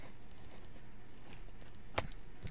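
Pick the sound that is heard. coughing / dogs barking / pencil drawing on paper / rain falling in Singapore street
pencil drawing on paper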